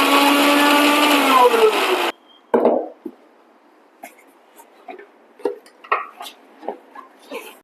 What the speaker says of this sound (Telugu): ఇంకా ఆనియన్లోకి కొంచెం జీరా వేసేసి దీన్ని అయితే గ్రైండ్ చేయాలండి